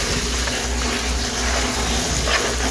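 Water runs steadily from a tap as food is rinsed for a meal of salmon, rice and salad, a close, continuous gushing hiss with no talking over it.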